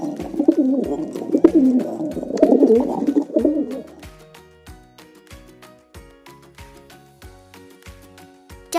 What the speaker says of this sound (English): Pigeon.